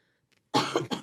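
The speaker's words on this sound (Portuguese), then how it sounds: "tossimos sincronizados aqui" A short burst of coughing, two or three quick, close, harsh coughs after a moment of silence.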